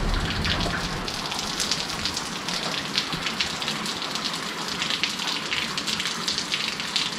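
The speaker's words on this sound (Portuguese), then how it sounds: "Chove chuva." Steady rain pours down outdoors on a rural smallholding, a dense, even hiss of drops striking surfaces that stays constant and fairly close throughout, with no voices.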